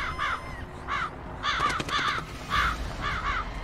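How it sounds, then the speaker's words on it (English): A crow in The Witcher 2 caws repeatedly in short paired bursts, fairly close, over a steady low game ambience. "nice crow."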